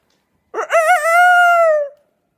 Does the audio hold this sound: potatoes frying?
no